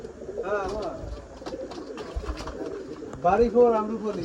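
Pigeons coo repeatedly in a village mango orchard where birds are nesting with eggs and young, the soft rolling calls rising and falling steadily over low background noise, with a louder burst near the end.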